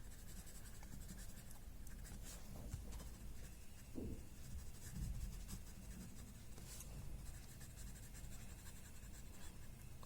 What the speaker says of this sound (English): So first adding an outline with my watercolor pencil.